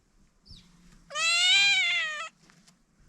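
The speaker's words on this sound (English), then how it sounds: "kitty cat over here" A family cat in a Moroccan Berber village lets out one long, loud, clear meow close by, preceded by a brief faint chirp and low background murmur.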